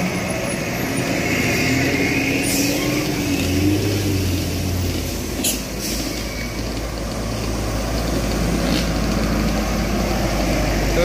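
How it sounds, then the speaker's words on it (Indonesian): A truck descends a steep mountain road at Sitinjau Lahor, Selorejo. Its engine drones loud and steady throughout, with a few brief hissing bursts and no talk. "Itu ada truk turun."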